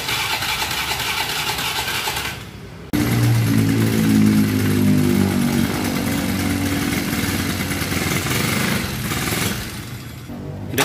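A Honda Beat scooter fitted with an oil cooler starts with a sudden burst and settles into a steady, buzzing idle close by, the engine running evenly for several seconds before dropping off briefly near the end.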